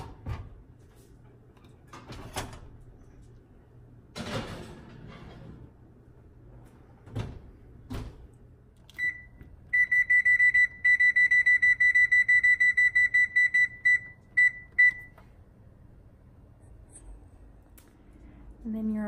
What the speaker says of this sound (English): you're gonna put them in the oven for 25 minutes